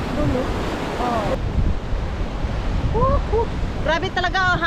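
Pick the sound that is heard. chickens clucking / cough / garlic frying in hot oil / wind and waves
wind and waves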